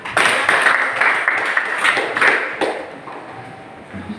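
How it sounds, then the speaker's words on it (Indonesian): Students in a classroom clap for group 2 after its presentation, a brief burst of applause that is loud at first and then tapers off into quieter room sound. "untuk kelompok 2 kita berikan tepuk tangan"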